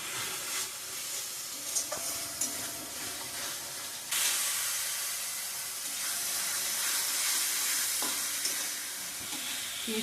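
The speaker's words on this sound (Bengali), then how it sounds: "পেস্ট করা পেঁয়াজটা ভাজা ভাজা হয়ে গেছে" Onion paste fries in hot oil with a steady sizzle, broken by the scrape of stirring and a brief louder burst partway through.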